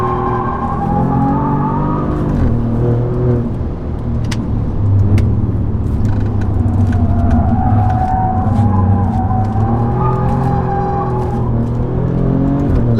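An Alfa Romeo Giulia QV driven hard through corners, its engine roaring and shifting pitch as it brakes and accelerates, with loud sustained revs and brief sharp clicks over about thirteen seconds, no talking.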